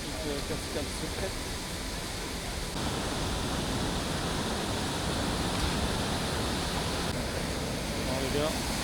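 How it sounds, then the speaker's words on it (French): A hidden waterfall near Cairns, Australia, reached by climbing a cliff, gives a steady, dense broadband rush of falling water that stays close and even throughout. "Cascade secrète."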